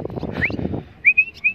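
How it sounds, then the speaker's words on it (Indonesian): A pallow bird calls from near a bridge in a free-flight training session: a few bright whistled notes, one early, then a rising pair and a longer note near the end, following a stretch of low mixed noise. "Burung falo."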